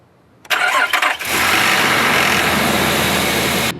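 An SUV engine cranks briefly with a starter whir, then catches and settles into a steady, loud idle close by.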